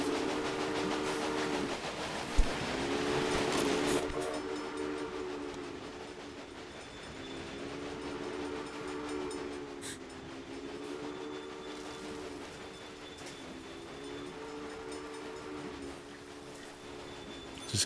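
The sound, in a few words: train running in video game Railway Empire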